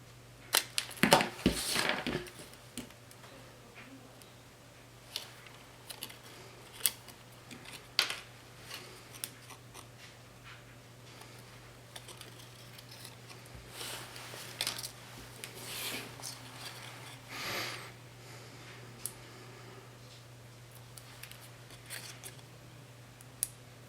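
Scissors snipping material for a craft project, a scattered series of quiet crisp cuts and rustles, some clustered in quick bursts, over a faint steady hum.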